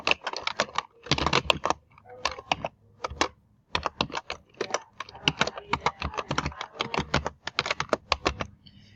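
Rapid bursts of keystrokes on a computer keyboard as an email address and password are entered, close and crisp, in uneven runs separated by short pauses, with no speech.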